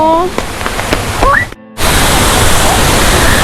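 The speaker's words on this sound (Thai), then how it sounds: "โอ้น้ำตก" A waterfall in Kengtung (Chiang Tung) roars as a dense, steady rush of falling water, loud and close. Voices talk briefly over quieter background noise before the full roar takes over.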